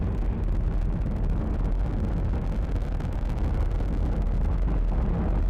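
A SpaceX Falcon 9 rocket with nine Merlin first-stage engines roars during launch as a continuous, loud, broadband rumble with crackle and wind buffeting, steady throughout.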